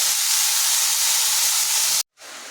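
Cabbage and potatoes fry in a pan with a loud, steady, close hiss of sizzling. Near the end it cuts out briefly, then picks up again.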